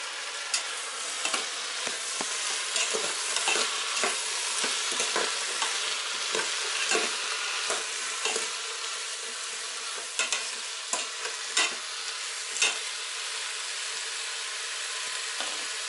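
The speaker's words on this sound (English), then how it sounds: "We're going to give that a stir." Food seasoned with salt and black pepper is stirred in a Power Pressure Cooker XL. A bright, steady frying sizzle runs under repeated close scraping strokes of a utensil against the pot, with no voice.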